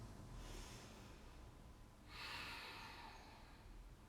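Slow, deep breathing held in a pose during a power yoga flow: one long airy inhale followed by a stronger, longer exhale through the nose, close and quiet, with no talking.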